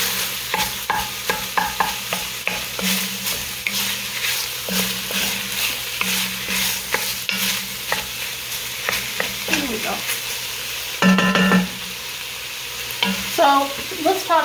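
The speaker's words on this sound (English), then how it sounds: "put this 1 1/2 chopped up yellow onions into it. And let that start cooking as well." Chopped yellow onions sizzle in a pan for a stuffed pepper soup, with a steady fry broken by frequent stirring scrapes and clatters. No one speaks.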